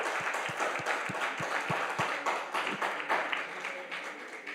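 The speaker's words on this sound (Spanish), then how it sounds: "Dale un aplauso a Colombia desde ya." Applause for Colombia at a church sermon, a congregation clapping together with a few distinct rhythmic claps standing out at first before blending into general applause.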